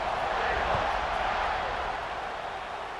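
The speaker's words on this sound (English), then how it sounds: "this crowd is buzzing after that last score" Crowd noise in a football stadium after a score, a steady broad roar of many voices holding at moderate, even loudness throughout without any single voice standing out.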